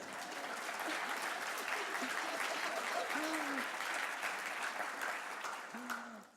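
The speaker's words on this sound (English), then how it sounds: "Give her a round of applause." An audience at the Trust Conference 2017 claps steadily, a dense patter of applause from a crowd. It fades near the end, and a few faint hoots or cheers rise above the clapping.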